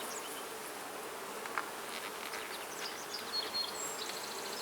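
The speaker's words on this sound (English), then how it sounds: "Yeah, so there's a lot of bees in here." A dense, steady drone of many honey bees buzzing inside a hive, close up and continuous, with no voices.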